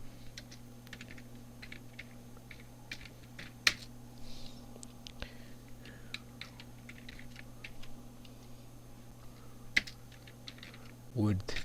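Keys tapped on a computer keyboard while writing HTML and CSS code for an image slider, soft irregular clicks with a few sharper strikes over a steady low hum, fairly faint and close.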